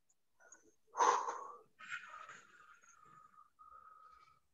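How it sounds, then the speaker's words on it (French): Breath sounds during a knee-lift exercise routine: a strong outward blow followed by softer, airy inhalations and a final breath, close and isolated against near silence. "On souffle. On inspire."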